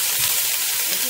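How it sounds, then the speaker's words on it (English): Butter sizzles and hisses in a frying pan while being spread around for an okra sauce with goat meat, a close, bright continuous sizzle under a talking voice. "she's spreading the butter all over the fry pan"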